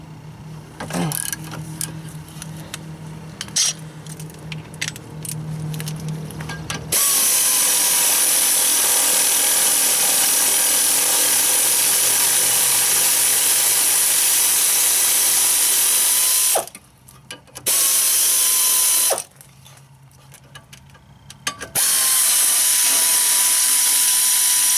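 Ratchet breaking loose the tight brake caliper bolts on a BMW X3 E83, heard as repeated close clicking bursts of the pawl with pauses between strokes.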